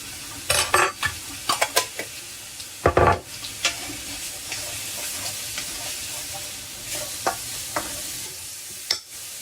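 Chicken and prawn stir-frying in coconut oil in a pan, with a steady close sizzle broken by repeated scraping and clattering strokes of a utensil against the metal.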